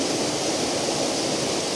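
A bright waterfall pours in a continuous, dense rush of white water, loud and unbroken for the whole short stretch.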